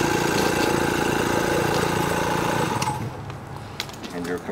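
An air compressor runs steadily, blowing out a sprinkler system, with a loud, constant mechanical drone that cuts off about three seconds in, leaving faint clicks and rattles.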